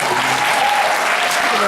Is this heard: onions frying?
no